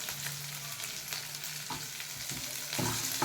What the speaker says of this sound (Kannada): ಇದು ಸಹ ಸ್ವಲ್ಪ ಹೊತ್ತು ಫ್ರೈ ಆಗಿ.